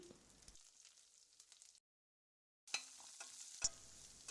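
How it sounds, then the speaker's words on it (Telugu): Fenugreek leaves, ginger and curry leaves fry in a pan with a soft sizzle and the scrape of stirring, cut by a brief silent gap, then a louder clatter and crackle as the cooking resumes. "మెంతాకు పచ్చిదనం పోయేంత వరకు వేయించుకొని కాసేపు మూత పెట్టి మగ్గించుకోవాలి"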